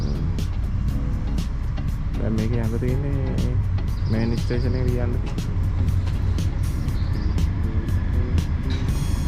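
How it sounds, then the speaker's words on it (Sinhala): A loud, constant rumble of a tram drawing near in Prague fills the scene while a person talks over it. "ඔන්න එනවා දැන් ට්‍රෑම් එක"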